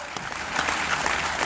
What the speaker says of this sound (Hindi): इतनी कम तालियों से मजा नहीं आएगा दोस्तों।